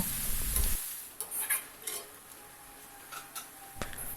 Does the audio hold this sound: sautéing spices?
yes